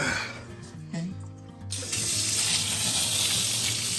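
A kitchen faucet is opened after plumbing work during a makeover, with a few clanks and knocks before water suddenly gushes and runs steadily into the sink, close and loud.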